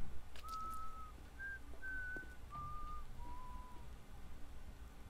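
A faint series of five long whistled tones, each held steadily at a slightly different pitch, sounds over low background rumble in the video game 7 Days to Die.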